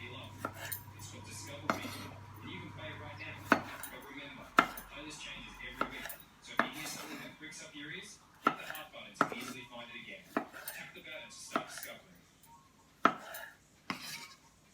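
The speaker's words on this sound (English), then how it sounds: "Got 4 cherry tomatoes, and cut those into quarters." A knife cuts cherry tomatoes into quarters on a board, sending out sharp irregular taps and thuds at close range amid light kitchen clatter, with no talking.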